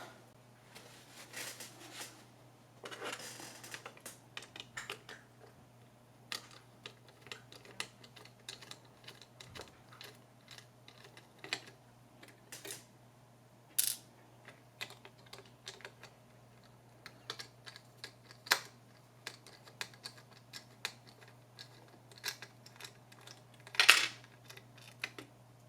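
Small screws being undone on the back of a USB game controller during a teardown, heard as sparse, faint clicks, ticks and taps scattered irregularly over a steady low background hum, with a sharper louder click near the end.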